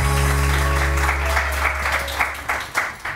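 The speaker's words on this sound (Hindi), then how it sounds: "एंड उरूज मोइज़ के लिए बहुत सारी तालियाँ" A studio audience on a morning TV show claps warmly for a guest, full applause thinning out into a few scattered, separate claps at the end.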